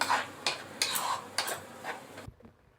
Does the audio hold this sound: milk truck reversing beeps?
no